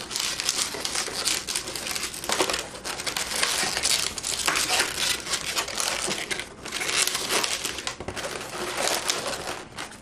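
Latex balloons being twisted and handled while making a pirate monkey balloon animal, a constant close squeaking, rubbing and crinkling texture with no pauses.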